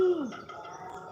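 A single bird call, a short descending coo or chirp, rings out near and clear at the start, then fades into quiet room background with no talking.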